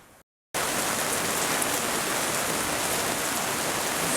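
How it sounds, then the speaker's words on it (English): Heavy storm rain pours down steadily in a dense, loud hiss that fills the scene after a brief cut of silence, with no voices heard. "It's really raining"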